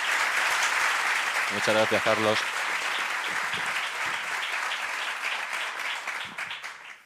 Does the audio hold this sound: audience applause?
yes